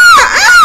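Paper Mario characters screaming, a short loud high-pitched wail that rises and dips in pitch, heard alone.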